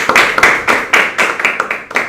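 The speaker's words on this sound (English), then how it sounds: "So, a huge round of applause for him." A small group claps at a Toastmasters club meeting, sparse and close, with distinct individual claps in an uneven rhythm for about two seconds.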